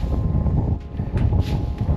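Wind blows across a tropical beach campsite beside a tent, a steady, loud low roar buffeting the microphone with no pauses.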